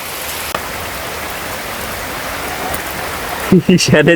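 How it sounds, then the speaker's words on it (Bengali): Heavy rain pours in a loud, continuous hiss throughout the all-day downpour outside a house. A voice talks briefly over it at the very end. "আজকে রে বৃষ্টিটা কমতেছে না গাইস সারাদিন শুধু বৃষ্টি আর বৃষ্টি"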